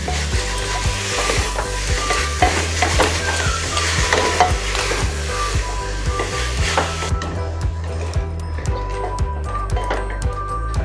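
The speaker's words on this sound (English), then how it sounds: "We have to fry it." Mutton kheema for cutlets frying in a pan, loud continuous sizzling with rhythmic thuds and scrapes of a spatula stirring, close up, the hiss thinning out near the end.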